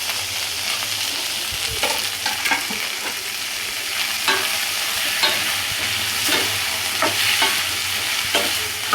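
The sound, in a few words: capsicum, carrot and cabbage strips frying in a pan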